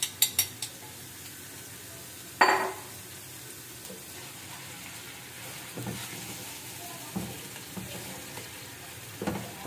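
Onion frying in a pan, a quiet steady sizzle close by with a few clatters of a utensil against the pan at the start and occasional soft scrapes.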